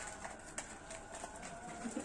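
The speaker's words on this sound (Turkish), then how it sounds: "kuşlar da korkuyor." Pigeons and doves coo softly in the background, with a few faint low calls near the end, while small scuffling noises occur as a tiny animal moves nearby; the sounds stay quiet and distant with no talking.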